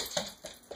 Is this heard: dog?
yes